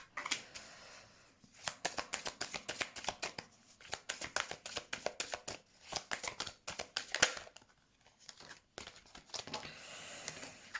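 Tarot cards being shuffled in repeated bursts of crisp riffling and slapping, close and fairly quiet, with brief pauses between rounds and no talk.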